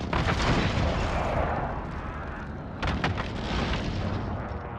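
Heavy artillery strike in Call of Duty Modern Warfare: a sustained roar of overlapping explosions and booming blasts, loud and close, with a fresh burst of detonations near the end.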